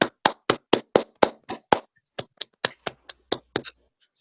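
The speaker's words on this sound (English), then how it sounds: "The group claps along with the therapist." A therapy group claps along with the therapist: about fifteen sharp, evenly spaced handclaps in a steady rhythm, with a brief pause midway before the claps resume and end.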